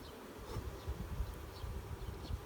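Honey bees buzz steadily during a May inspection of a horizontal hive, a soft continuous drone with low flutters and passing bees fading in and out close by.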